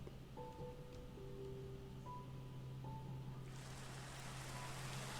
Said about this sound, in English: It's going to start raining.